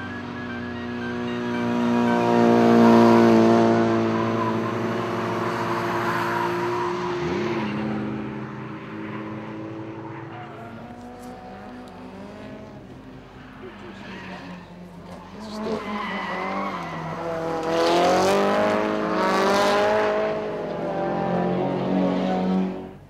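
Touring race cars scream through a corner, their high, buzzing engine notes rising and falling as they brake and accelerate, with loud, continuous engine roar that swells again near the end.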